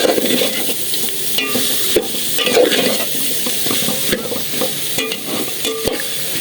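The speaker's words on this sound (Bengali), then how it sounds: "আর আলু দিয়ে দিলাম আলু আলু দিয়ে দিলাম আমি এবার" Potatoes fry and sizzle in a pan while being stirred, with steady hissing broken by frequent scraping and knocking strokes of a utensil against the pan, close and continuous.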